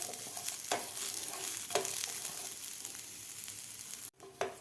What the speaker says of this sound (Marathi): पॅनमध्ये आपल्याला कांदासुद्धा भाजून घ्यायचा आहे.